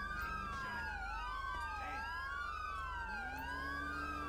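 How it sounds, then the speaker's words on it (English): Police car sirens wail in GTA 5 with the LSPDFR mod, several overlapping sweeping tones rising and falling continuously and loudly over a low engine rumble. "can you guys turn off your fucking sirens?"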